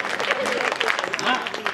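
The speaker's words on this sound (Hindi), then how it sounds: "तालियां बजनी चाहिए जहां समझ आ जाए" Audience applause at a Hindi poetry gathering (kavi sammelan), a short burst of dense clapping from a crowd, fairly loud, with voices mixed in.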